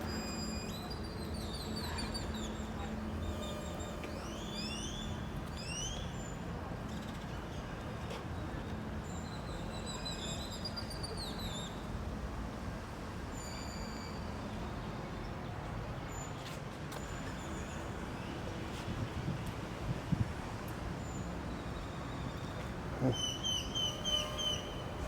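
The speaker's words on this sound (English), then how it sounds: "so many beautiful different bird sounds, which is a treat in itself" Many different birds sing in Casco Viejo, Panama City, a dense overlapping chorus of high chirps and trills at moderate distance over a steady outdoor street rumble, with a few sharper ticks near the end.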